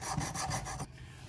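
An EDC pocket knife blade is drawn across a sharpening stone in a quick run of about six rasping strokes, close and crisp, before stopping abruptly into quiet.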